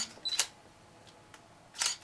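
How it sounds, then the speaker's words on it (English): A Vello BG-C5 battery grip on a camera fires the shutter in two crisp, close clicks: a sharp snap near the start and a second burst near the end, separated by quiet room tone with a couple of faint ticks. "so it takes a picture, so we know that works."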